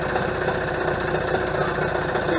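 A Mercury 25 HP outboard motor idles steadily at close range, a loud, even running rumble with a fast regular pulse and no voices.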